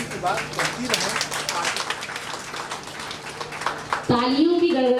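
Scattered applause rises from an audience seated in an auditorium during a literary honouring ceremony, uneven clapping with voices talking over it, then a louder voice speaks alone near the end.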